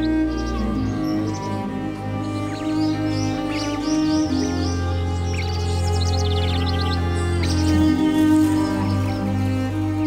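Small birds chirp and twitter at a nest with vinous-throated parrotbills as hosts, with short high calls in brief clusters over a loud, sustained low tonal background.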